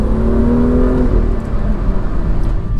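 A BMW M2 engine accelerates along a long flat valley road on the way up the Stelvio Pass in the Alps, a loud, steady revving drone with no voices.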